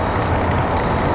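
An original Saab Clarion car radio in a Saab convertible sounds a steady electronic beep tone twice over a constant low rumble.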